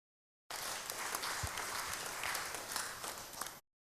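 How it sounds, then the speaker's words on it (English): Audience applause fills a church, a steady wash of many hands clapping for about three seconds, fairly close and even, then ending abruptly. "Give him a round of applause."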